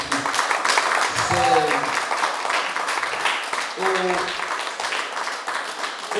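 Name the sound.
congregation applauding a visiting brother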